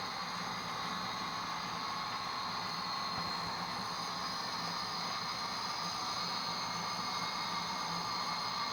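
A model train works the yard tracks while dropping off a sealed box car. The motor and wheels produce a steady, unbroken hum and hiss at close range, and there are no clear knocks and no talk.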